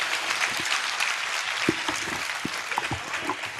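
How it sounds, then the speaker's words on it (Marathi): Audience applause at a Marathi literary gathering in Kothrud, heard as a dense, steady wash of clapping with scattered louder claps throughout, fairly close and continuous. "एकदा जोरदार टाळ्या पण त्याच्यासाठी देऊया"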